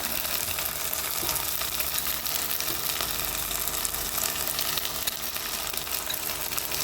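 Ground chili and ginger paste fry in a pan for a chicken curry, a steady dense sizzle and crackle that stays loud and even throughout with no talking.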